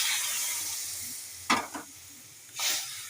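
Boiled dal poured into a pan of frying vegetables, with a steady hiss of frying broken by two bursts of sizzling and stirring as the liquid hits the hot pan.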